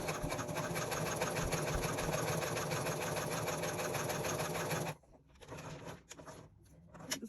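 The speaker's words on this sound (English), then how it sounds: "Now we are going to take this to the machine and stitch 1/8 of an inch all the way around." A sewing machine with a walking foot runs steadily, stitching fabric for a wristlet near the edge, then stops abruptly, leaving a few quieter short bursts and soft handling noises.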